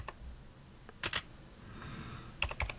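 Keys are typed on a computer keyboard in short, quiet clusters of clicks, a pair first and then a quick burst, over a faint background hum.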